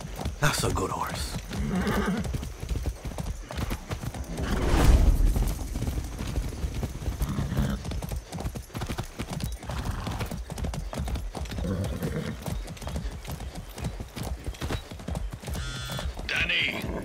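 A horse in the game Far Cry 6 gallops with fast, continuous hoofbeats, giving a whinny partway through, under game music and a voice speaking.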